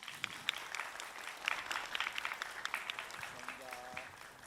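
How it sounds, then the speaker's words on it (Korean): Fans at a Busan send-off event for a football club clap together, a moderately distant, uneven applause with a voice speaking faintly over it. "여러분 다시 한번 뜨거운 박수 부탁드립니다."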